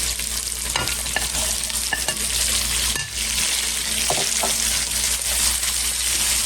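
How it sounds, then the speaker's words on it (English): Bacon with onion and ham fries in a pan, a loud, steady close-up sizzle broken by metallic scrapes and clinks from stirring, with no talking. "The bacon is starting to render out its fat, so I'm going to add the onion. And the ham."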